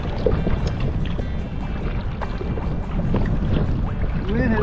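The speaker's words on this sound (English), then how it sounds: "The wind has picked up to about 5 to 10." Steady wind of about 5 to 10 rushing over the microphone while a kayak is paddled on open water between Thorofare Bridge and Salter's Creek bridge, a constant loud roar with faint water splashes beneath it and no voices.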